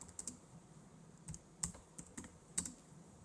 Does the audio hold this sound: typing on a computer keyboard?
yes